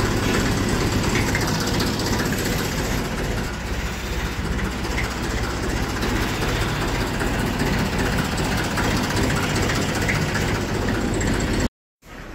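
Farm tractor engine running steadily during sugarcane season in a rural Indian village, a loud, continuous low rumble that holds close and even for about twelve seconds before cutting out abruptly near the end.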